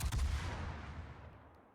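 A single heavy boom of naval guns firing in a warship video game, a loud low blast at the start that rumbles and decays over under two seconds, no speech.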